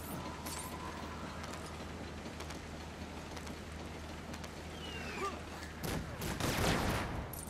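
Cannons fire on a flying island level of the Lego Marvel Super Heroes video game, with a few sharp, loud blasts bursting out near the end over a constant hum of game background noise.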